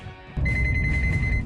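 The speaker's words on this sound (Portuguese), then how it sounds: "É possível calibrar o equipamento e escolher a distância que o bip vai começar a tocar." A car parking sensor beeps in a quick, steady series of short high tones, close and clear over a low, constant cabin or road rumble.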